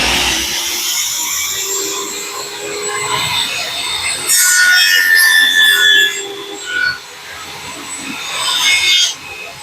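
A saw blade cuts a kerf line in wood while building a woodworking joint, giving a continuous close rasping, rubbing scrape that swells louder midway and again near the end, with no talking.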